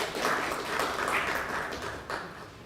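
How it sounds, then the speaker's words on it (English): Audience applause for a college choir at a community college graduation ceremony, a steady wash of clapping from a crowd that carries on at moderate level and thins slightly toward the end. "Give them a round of applause, please."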